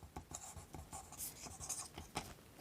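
Pen scratching on paper while working a maths exercise, a quiet run of short strokes and taps in uneven rhythm, close up with no talking.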